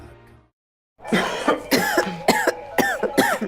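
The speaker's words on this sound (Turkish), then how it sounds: "Siz öksürünce ben çok üzülüyorum." A person coughs repeatedly in a quick series of harsh, rasping bursts close up, about half a dozen coughs following a brief silence.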